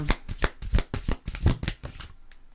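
A deck of tarot cards shuffled by hand, giving a quick series of soft, close riffling and slapping bursts over a couple of seconds.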